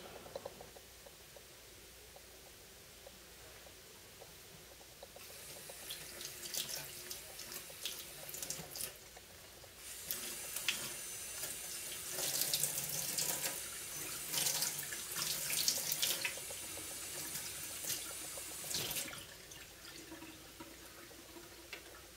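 Water runs steadily from a tap into a sink during acid etching of folding knife blades, the flow starting softly then swelling into a loud, close splashing rush for several seconds before easing off, with no talk.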